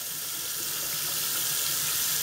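Hot water runs steadily from a tap into a sink, where a new PEZ dispenser is about to be washed; a continuous, even splashing rush with no voices.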